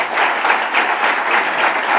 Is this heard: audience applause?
yes